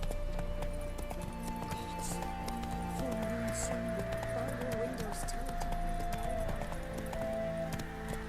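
Roach the horse gallops in Witcher 3 with steady, rhythmic hoofbeats clip-clopping up close, laid under a continuous musical score with a voice talking over part of it.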